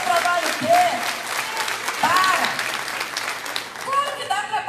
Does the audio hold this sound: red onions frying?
no